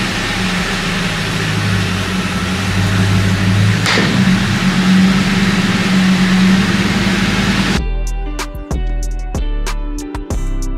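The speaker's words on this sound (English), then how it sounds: "So I'm gonna get the car off the ramp and we'll show off the new chin splitter." A New Edge Ford Mustang engine idles with a steady low rumble, a quick pass of another sound sweeping through midway, then the engine note cuts off and close, loud clunks and knocks of the car coming down off a ramp follow.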